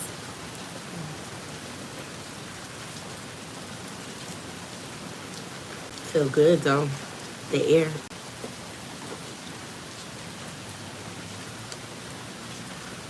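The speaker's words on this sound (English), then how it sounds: "It's raining cats and dogs." Heavy rain falls steadily, a soft continuous hiss of drops on surfaces throughout, with someone speaking briefly in the middle.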